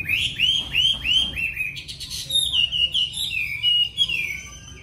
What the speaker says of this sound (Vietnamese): phơi nắng cho cái chú chim nó mới thay lông